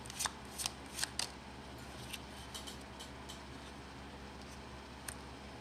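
Bicycle playing cards shuffled close up: a few quick riffling bursts early on, then sparse lighter flicks and taps over a quiet room hum.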